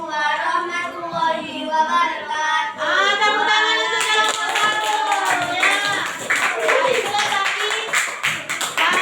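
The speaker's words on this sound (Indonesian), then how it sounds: "Tepuk tangan untuk kelompok 1." A classroom claps for a presenting group, a brisk burst of many hands that builds partway through and continues under overlapping children's voices and chatter.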